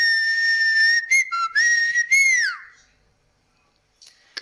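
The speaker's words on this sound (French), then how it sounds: "si jamais on se perd ou si jamais on se voit pas de vue, on fait un sifflement qui est celui-ci." A person whistles a distinct signal call used for finding each other when lost, a clear, loud, shrill tone with a few short breaks and a falling glide at the end, followed by near silence.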